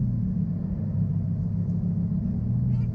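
Deep, steady low rumble from a Lamborghini engine, heard from inside the car as a constant droning hum with no revving.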